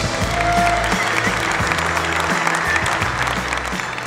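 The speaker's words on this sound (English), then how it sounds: "Can we give him a big round of applause, ladies and gents?" Sustained audience applause at a company's tenth-anniversary event, full and steady clapping with music or a low tonal hum underneath.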